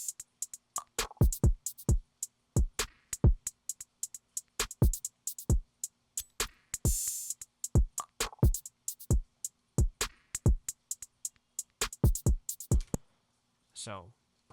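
Sharp drum and percussion hits from the Battery 4 drum sampler in a looping beat pattern, crisp isolated strikes with tight rhythmic spacing, close and dry, ending with a short low tonal blip.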